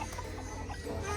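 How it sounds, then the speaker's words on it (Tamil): An American White Silkie chicken clucks at an animal park, a short burst of close, soft clucking over low background rumble. "கோழி, சேவல்."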